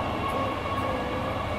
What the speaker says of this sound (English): We're on a choo-choo.